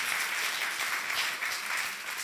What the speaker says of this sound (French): vous pouvez applaudir, vous pouvez honorer Dieu